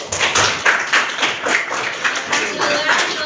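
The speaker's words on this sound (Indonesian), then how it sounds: "Tepuk tangan dulu." A junior high maths class claps hands together in the classroom, a burst of brisk rhythmic clapping from many students, close and fairly loud, with some voices mixed in.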